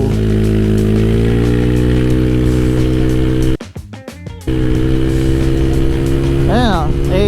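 A Honda Click 175cc scooter with a modified engine accelerates hard from a standstill toward 100, its loud droning engine tone holding steady, dropping out briefly, then returning with rising whining sweeps over rushing wind.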